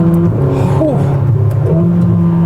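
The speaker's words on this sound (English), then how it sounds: "All right, driving the SF90XX." Ferrari SF90XX supercar being driven, its engine giving a steady loud drone with rising and falling tonal sweeps, heard from inside the car.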